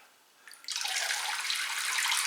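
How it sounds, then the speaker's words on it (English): Water is poured over the top of a potted orchid, a steady close splashing hiss that starts abruptly after a brief faint trickle and runs continuously. "Just water it from the top,"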